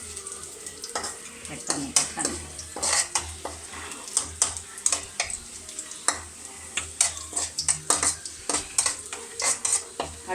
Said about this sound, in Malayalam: പായസം ഇളക്കണേ.